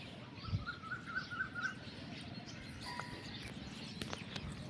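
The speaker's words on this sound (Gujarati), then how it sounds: "તમે સાંભળો કે ચકલીઓનો અવાજ આવતો હોય છે તમને" Sparrows chirp in the early morning in a quick series of short, faint tweets a little way off, over a soft outdoor background hum in a farming village.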